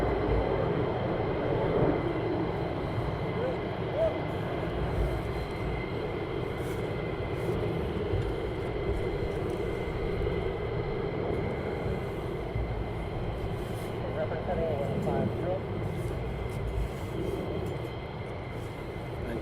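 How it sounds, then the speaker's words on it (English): Military jets landing at RAF Lakenheath, a continuous, moderately loud low engine rumble and rushing roar that holds steady without clear peaks, heard alone with no talk. "So these guys are doing a full stop landing"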